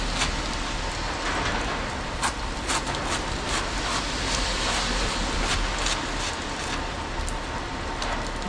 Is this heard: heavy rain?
yes